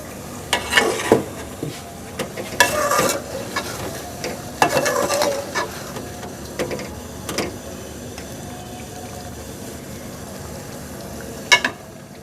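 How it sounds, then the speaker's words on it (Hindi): Chicken frying in a pot with tomato and yogurt, stirred with a spoon: intermittent scraping stir strokes over a low steady sizzle, with quiet gaps between bursts of stirring. "इसमें टमाटर और दही का पानी खुश्क होने तक इसको हमने भूनना है"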